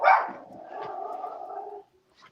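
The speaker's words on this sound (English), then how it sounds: "it was his dog that was going crazy" A single dog lets out a sharp, loud bark that trails into a drawn-out whining howl lasting nearly two seconds, close by and with no one talking over it.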